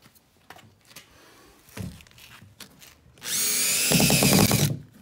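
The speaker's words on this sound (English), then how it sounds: "this is our little scab, and we're about to screw it on." A power drill drives screws through a wooden scab into a plywood wheelchair ramp: a few soft knocks and handling sounds, then one loud, close, sustained whirring burst of about a second and a half.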